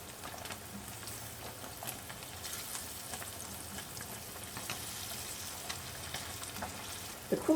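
Halloumi cheese frying in a pan, a steady close sizzle with crackling pops and spatter running throughout, loudening briefly at the end.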